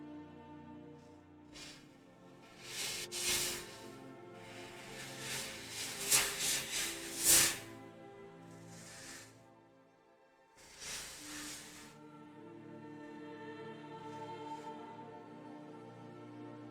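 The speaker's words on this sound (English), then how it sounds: "Now the airbrush is behaving." An airbrush sprays blue paint in intermittent hissing bursts of varying length, with broadband spray peaking in the middle and again near the end over a low background hum.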